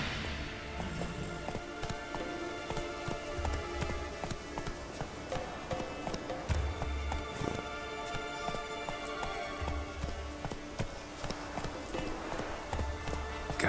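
Roach, a horse in The Witcher 3, gallops with a quick, regular clip-clop of hooves that holds steady at moderate loudness over a busy background, with occasional soft low thumps.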